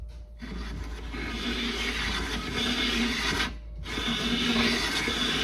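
A cutting tool machines the side of a Model A-B Ford engine block, set up with a bushing and bar held down by the middle main cap. A continuous, steady grinding rasp runs close and loud, briefly pausing once before resuming.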